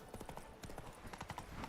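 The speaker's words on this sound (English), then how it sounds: "I'm gonna get on my fully decked out horse." Clip-clop of a horse's hooves at a riding pace in Witcher 3, a steady rhythmic patter of hoofbeats close by, with a faint stray voice underneath.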